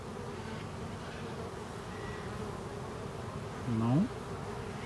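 Buckfast honey bees at an open hive hum in a dense, continuous close drone that stays even throughout, with a brief rising whine near the end.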